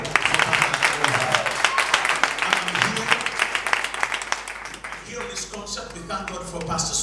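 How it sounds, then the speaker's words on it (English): Church audience at a fundraising show gives a round of hand clapping, uneven and rhythmic at first, thinning out toward the end as voices and speech take over. "Can we give a hand clap for you?"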